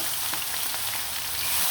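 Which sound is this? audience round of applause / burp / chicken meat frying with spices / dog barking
chicken meat frying with spices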